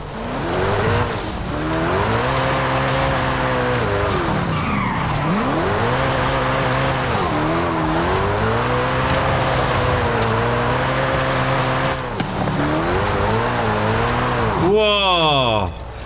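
A car drifting in Forza Horizon 5, engine revving through repeated rising and falling gear sweeps with continuous loud tire squeal, close and sustained for the whole stretch, ending in a sharp rev.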